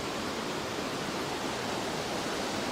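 High snowmelt water rushes through a creek crossing on Taboose Creek in the Sierra Nevada, a loud, steady, close roar of flowing water with no breaks.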